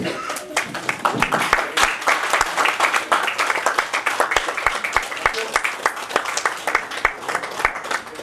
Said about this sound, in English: And can we please clap?